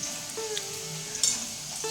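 Stale chapati frying in a pan gives a soft, steady sizzle close by, with a few small pops and a light scrape partway through, no talk.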